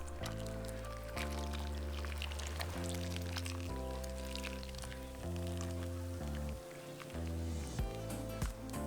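Blended serrano chile sauce is poured over shrimp in a soft, wet splashing pour that runs under steady background music.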